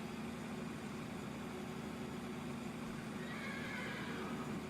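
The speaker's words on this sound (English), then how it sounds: "And I hear horses." A horse neighing on a farm in the video game Farming Simulator 2013, the whinny low and faint over a steady hum of background noise with no talking.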